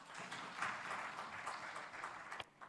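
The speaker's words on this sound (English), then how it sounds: "Can we clap our hands?" Audience at an urban development conference in Uganda clapping their hands, a soft, dense patter of applause that thins out near the end with a few last claps.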